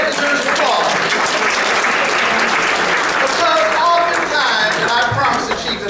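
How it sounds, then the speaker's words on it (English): A hall audience at a youth celebration breaks into loud, sustained applause, dense clapping from a large crowd continuing steadily for several seconds. "That's right, that deserves applause."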